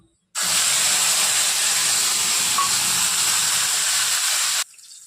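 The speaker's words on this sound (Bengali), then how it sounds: "তেজপাতাটা ভাজা হয়ে গেছে, এখন টমেটো পেস্টটা দিয়ে দেব।" Tomato paste hitting hot oil in a pan with fried bay leaves for egg curry: a sudden loud hiss and sizzle that holds steady for about four seconds, then cuts off abruptly.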